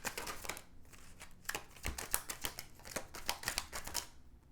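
Tarot cards are handled and shuffled from a deck in a rapid series of crisp riffles and flicks, close and fairly quiet, with no talking.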